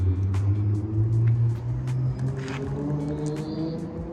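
A supercar's engine fires up and settles into a deep, steady rumbling idle close by, with a few light clicks and taps over the low drone.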